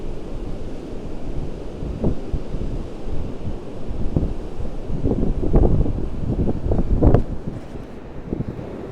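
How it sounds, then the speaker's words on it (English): Big waves crash against the cliffs off a seaside promenade. Heavy wind buffets the microphone, and dull surges of surf rise and fall under a constant rushing roar. "where the big waves are crashing against the cliffs."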